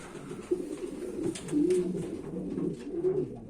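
Pigeons coo steadily in a loft, with low, throaty calls repeating close by and no talking.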